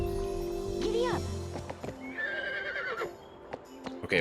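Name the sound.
horse neighing and hooves in video game Baldur's Gate 3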